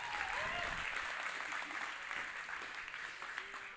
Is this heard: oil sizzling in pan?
no